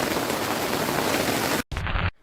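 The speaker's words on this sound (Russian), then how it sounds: "Дождь прям усилился, прям как будто град, я не знаю, там очень сильно." Heavy rain, hail-like during a thunderstorm at a hiking camp, pounds down in a loud, dense roar, then cuts off abruptly near the end, leaving a brief quieter stretch.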